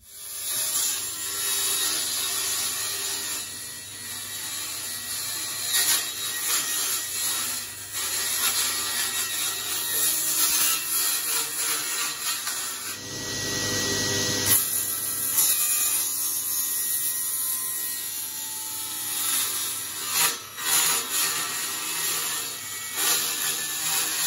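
A bandsaw cuts wood for a wooden hot rod pedal car, a continuous close buzzing rasp of the blade through timber with the machine's steady hum underneath, changing as the cut progresses and briefly surging partway through.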